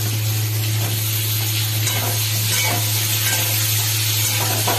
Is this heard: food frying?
yes